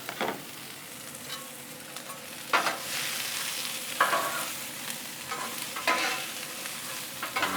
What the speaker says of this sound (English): Throw down all our onions. Let's throw down all our peppers.